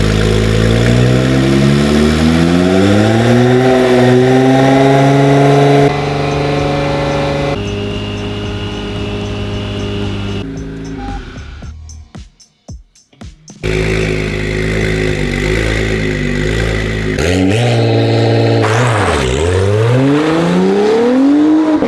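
A twin turbo Acura NSX engine runs loud and close, climbing and holding high revs in long sustained stretches, dropping briefly to near silence in the middle, then revving again with pitch dips and rises, with no talk.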